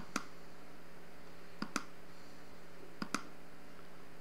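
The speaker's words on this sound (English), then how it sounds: "So I'm just clicking through everything here." Computer mouse buttons clicking through a PC software installer, five sharp close clicks in spaced pairs over a few seconds against a quiet room hum, no speech.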